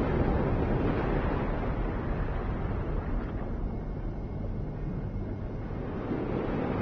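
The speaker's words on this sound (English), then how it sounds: "And the water's rising." Rising water in the Limbo video game gives off a continuous broad rushing wash, like surf or wind, steady and fairly loud throughout with no talking.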